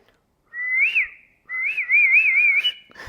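A person whistles an imitation of a koel's call, a Vrindavan cuckoo, in two phrases: a short rising-falling note, then a longer warbling trill after a pause, close and clear with no talk.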